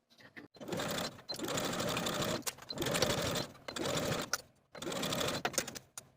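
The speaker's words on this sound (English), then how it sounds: "We're going to sew the binding once again with a 1/8 inch seam allowance all the way around." A sewing machine stitches dress binding at a 1/8 inch seam allowance in steady, close bursts of several seconds each, broken by short pauses, with no talking.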